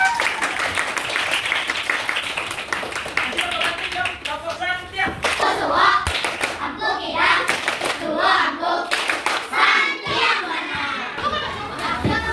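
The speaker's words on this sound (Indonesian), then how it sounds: "silakan kita berikan tepuk tangan yang meriah" Classroom applause with dense hand claps and taps mixed with children's voices and chatter, steady and fairly loud throughout, with people talking over it.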